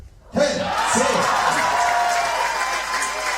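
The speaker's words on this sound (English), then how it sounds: "Crowd are pleased." A crowd at a recurve archery World Cup final in Berlin erupts in sudden cheering and shouting that stays loud and sustained, with voices mixed in.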